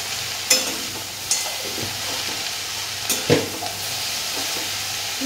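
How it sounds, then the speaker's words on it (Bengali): Bottle gourd greens fry with a steady sizzle in a wok, while a utensil stirs and scrapes through them in a few sharp knocks and rustles; the sound is close and carries no talk. "এবার এখানে লাউ শাকগুলো দিয়ে দেবো।"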